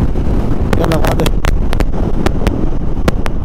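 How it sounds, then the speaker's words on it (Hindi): Strong wind at the Khardung La mountain pass in Ladakh roars and buffets the microphone as a loud, constant low rumble, with brief clicks and bursts of sound over it. "हवा चल रहा तेज।"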